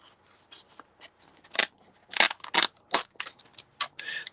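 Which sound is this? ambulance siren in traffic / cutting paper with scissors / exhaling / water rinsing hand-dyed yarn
cutting paper with scissors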